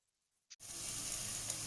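Spices for beef curry hit hot oil in a pan and break into a steady, close sizzle after a brief quiet moment and a small clink.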